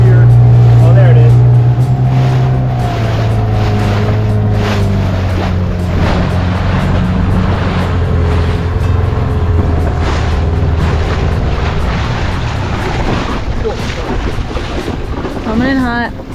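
A motorboat approaches across open water, its engine a steady low drone that stays loud and close throughout, mixed with wind and water wash, while people talk nearby.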